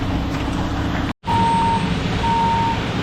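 A concrete truck reverses on a pour site, its engine rumbling loud and close while a backup alarm sounds two separate beeps, interrupted by one brief dropout.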